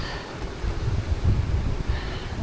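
Wind gusts buffet the microphone outdoors in Australia, a low rumbling roar that swells and eases over a couple of seconds, with no voices.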